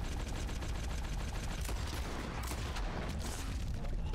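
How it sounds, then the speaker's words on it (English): Rapid, dense gunfire from the player's gun in Red Dead Redemption 2, with repeated sharp shots packed close together over a constant loud bed of noise, with no speech. "How fucking slow does my gun shoot, bro?"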